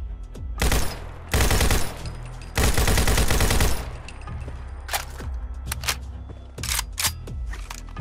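AK rifle from a Fallout 4 weapon mod firing three loud full-auto bursts in the first four seconds, followed by scattered single shots and mechanical clicks of handling and reloading.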